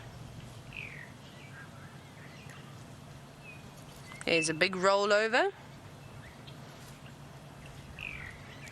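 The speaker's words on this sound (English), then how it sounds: "The birds that have just come around here, there must be a lovely food party" Birds call near a lion pride at sunset in the African wild, a brief burst of loud harsh calls in the middle, with faint chirps before and after and someone speaking quietly.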